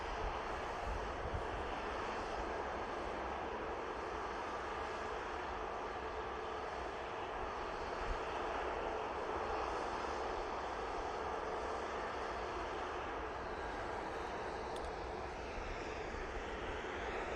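EasyJet airliner arriving from Amsterdam at Manchester Airport, a steady faint jet engine roar heard from a distance and sustained with little change, no voices.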